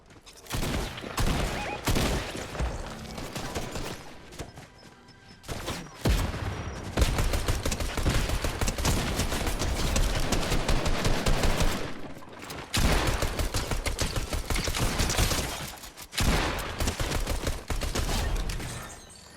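Repeated bursts of gunfire in Fortnite, including pistol shots, loud dense volleys separated by short gaps, with no talking.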